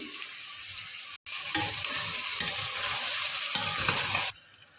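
Garam masala stirred into biryani masala frying in a pan: a continuous loud sizzle and crackle with spoon scraping, broken by a short silent gap near the start and ending abruptly, no voices.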